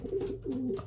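Belgian racing pigeons coo in their loft, giving a soft, continuous throaty burble with low rolling pulses, heard close by and alone.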